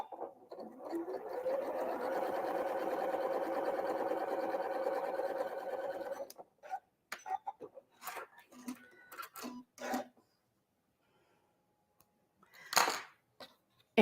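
A home sewing machine stitches quilt pieces in a chain for about six seconds, a steady close whir, then stops. Scattered clicks and fabric handling follow, with a short burst of quieter movement near the end.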